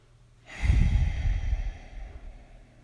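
One forceful breath during a yoga exercise: a strong, breathy exhale that swells quickly and then trails off softly, close and alone without talk.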